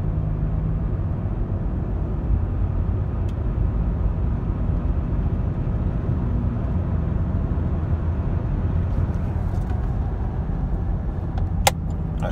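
2006 Pontiac G6 with a check engine light on, heard from inside while driving: a steady engine and road drone runs throughout, with no voices and a brief click near the end.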